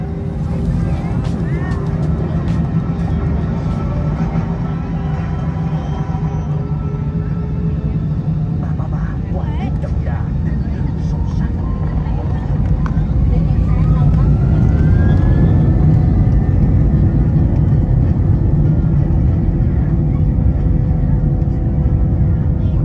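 Vietnam Airlines Airbus A321 jet engines spooling up for takeoff, heard from inside the economy cabin; a loud, steady roar with a rising whine that builds and holds throughout.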